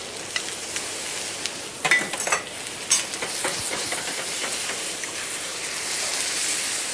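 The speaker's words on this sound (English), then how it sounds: "Just sear them a little bit so they're a little bit caramelized." Figs searing with sugar in a hot pan give a steady bright sizzle with small crackles and a few clicks of stirring, close and alone, no voices.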